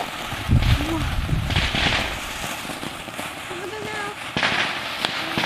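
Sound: fireworks fountains going off

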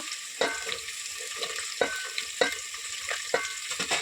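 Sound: frying onions, green chillies and carrots for bagara rice

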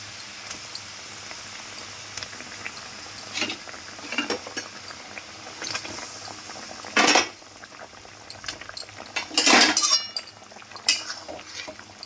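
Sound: fried hilsa fish added into boiling mustard gravy

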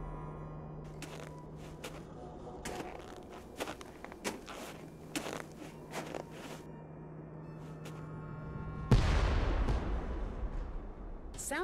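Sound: explosion in a video game

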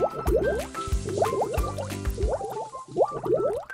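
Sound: water splashing during a bath in a cartoon

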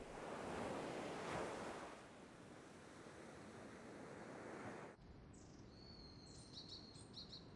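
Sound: rough sea waves

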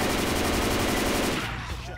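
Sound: gunfire in the video game Left 4 Dead 2

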